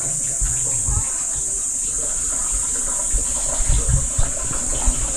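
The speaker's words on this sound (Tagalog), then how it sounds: "Ah, dito open ang tubig dito." Water runs steadily from an opened tap in a house, a continuous close hiss with people talking over it.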